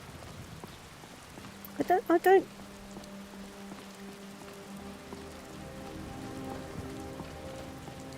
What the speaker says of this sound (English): as I thought that, it started to rain.